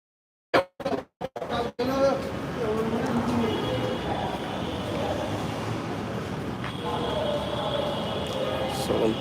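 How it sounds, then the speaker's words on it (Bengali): A few sharp bumps, then a steady low rumble of a Dhaka metro train running from Karwan Bazar to Motijheel, with faint whining tones and muffled chatter nearby. "metro rail"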